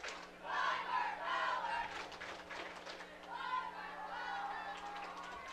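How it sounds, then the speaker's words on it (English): Shelton Highclimbers fans and cheerleaders in the stands at a high school football game at Montesano raise a steady, fairly close roar of cheering and chanted yells that swells and dips. "We're right above the Shelton crowd here and the cheerleaders. So you hear a lot of noise from the Highclimber faithful here."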